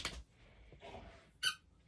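A dog squeaks a squeaky toy ball indoors, giving one short, loud squeak after a softer squeak at the start, with quiet room noise between.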